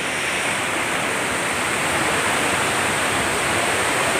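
Heavy rainwater floods a street in Malakpet, flowing with a steady broadband rushing roar, close and constant throughout, with no voices.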